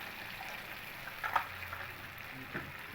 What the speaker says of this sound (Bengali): এবার আমি এর ভেতরে দিয়ে দেবো ঝোলের জন্য পরিমাণ মতো জল।